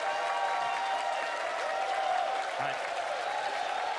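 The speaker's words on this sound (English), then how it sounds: "And we want to hear some applause for all four of our teams" Steady applause fills a large venue at the Splatoon 2 World Championship grand final at E3 2018, a dense sustained crowd clapping throughout, with a brief spoken word in Japanese briefly heard over it.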